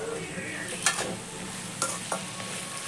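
Cloves, cinnamon and cashews sizzle in a hot pan while being stirred, a steady frying crackle with a few sharp scrapes and clicks of the spoon against the pan, no talking.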